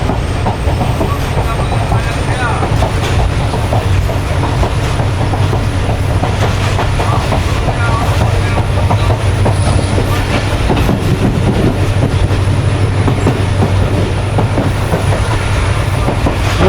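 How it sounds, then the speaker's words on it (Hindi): Steady clatter and rumble of the Tezgam passenger train running on rails toward Samma Satta Junction, heard continuously from on board, loud and unbroken with faint wheel squeal over a deep low drone. "तो 10:36 पर ट्रेन हमारी अप्रोच बना रही है सम्मा सट्टा जंक्शन रेलवे स्टेशन पर"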